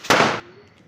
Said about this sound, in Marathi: फटाके वाजले बारीक तोटे